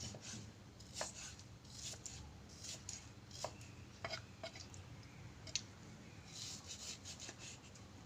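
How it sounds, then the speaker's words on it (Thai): A knife chops raw pork on a cutting board in a small, narrow condo kitchen, giving a series of irregular, fairly quiet sharp thuds over steady low background noise. "แล้วก็มาหั่นสับกันนะคะ"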